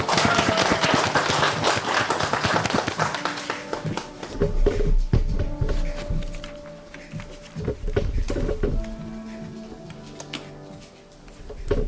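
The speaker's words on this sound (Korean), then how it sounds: "모두 뜨거운 박수로 환영 부탁드립니다" Crowd applause at a startup results-sharing event, a steady patter of many hands clapping, moderately loud, thinning out toward the end with scattered claps.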